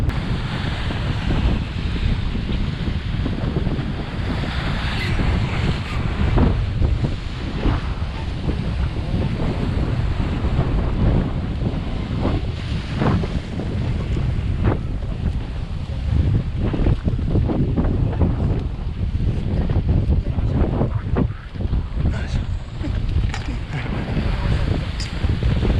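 Ocean surf and gusting wind on a Hokkaido shore during early-morning salmon fishing, a steady loud roar of breaking waves with heavy wind buffeting the microphone throughout.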